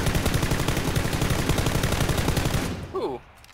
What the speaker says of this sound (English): You can easily drive through or destroy these with gunfire.